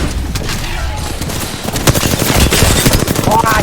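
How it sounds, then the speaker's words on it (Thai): Rapid automatic gunfire in the Apex Legends shooter game, dense overlapping bursts and sharp shots loud and close throughout, with a voice briefly heard among the firing. "เพื่อนมันยิง เพื่อนมันยิง"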